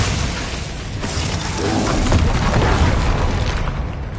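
Glacius ice spell cast in Hogwarts Legacy, a loud, dense crackling and shattering burst that carries through several seconds of busy combat noise.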